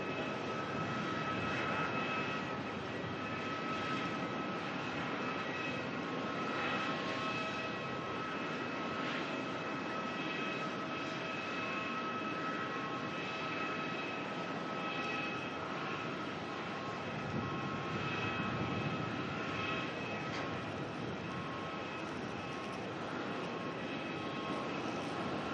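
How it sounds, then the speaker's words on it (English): Fiji Airways Airbus A350 taxiing at Melbourne airport after landing, a steady loud jet engine whine and rumble heard from nearby, continuous for the whole stretch with no talking. "The Fiji A350 taxiing back in after landing on the wrong runway."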